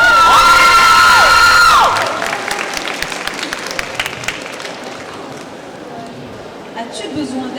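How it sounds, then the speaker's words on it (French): Loud crowd cheering, shouting and applause at a cosplay contest on stage at a manga convention, beginning with a burst of whoops and squeals, then settling into steady scattered clapping that continues to the end. "On applaudit."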